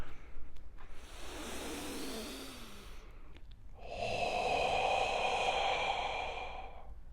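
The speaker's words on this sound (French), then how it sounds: "on va expulser l'air, on va expirer surtout, on va essayer de faire un air chaud comme si vous étiez devant une glace pour faire de la buée" Two long, close exhalations from a deep breathing exercise, pushing out warm air as if fogging a mirror, each a steady breathy rush with no talking.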